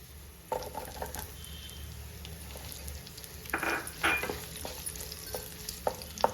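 A small chopped onion sautéing in a pan for noodles, a quiet low sizzle broken by several sharp spoon scrapes and clinks against the pan, close and intermittent.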